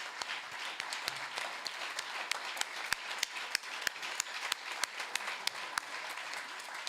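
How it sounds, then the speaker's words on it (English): Audience applause for the debating teams at the 51st Leeward Islands Debating Competition in 2023: a steady, dense burst of clapping from a full room that holds at an even loudness for several seconds. "Everybody, please give them a round of applause."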